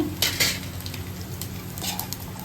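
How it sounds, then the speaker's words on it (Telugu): Mustard seeds, cumin and urad dal sizzle in hot oil for a tempering, with a steady frying hiss, a few sharp pops and light clinks of a metal utensil against the pan. "తాలింపు, ఆవాలు, జీలకర్ర, మినప్పప్పు వేసుకుని వేసాక"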